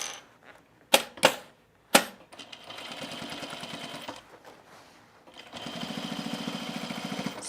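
A sewing machine understitches the facing seam of men's cargo shorts, with a few sharp clicks and short bursts before settling into steady, close, rapid stitching runs, pausing briefly midway; no one talks.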